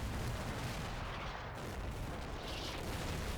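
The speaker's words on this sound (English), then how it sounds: "Still not sure what that artillery dropping there is." Artillery shells land in the war game Combat Mission Shock Force 2, a dense, continuous rumble of distant explosions and booming fire that fills the whole stretch, with no talking.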